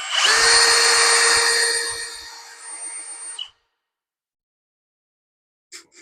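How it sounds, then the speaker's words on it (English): A power drill whirs loudly and steadily for about three and a half seconds while feeding cable on a North Country Armory GC-3000 crane assembly, then cuts off to silence, followed by a brief faint noise near the end. "She's going to run the drill."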